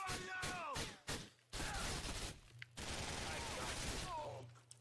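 Gunfire in GTA IV comes in loud, rapid bursts of shots separated by short pauses. Close and punchy, it plays over a low hum, with a player talking now and then.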